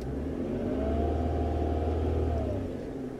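A car engine idling near 500 RPM during an OBDII scan-tool check revs up in one smooth, loud rise, holds, then falls back, close by and alone with no talk.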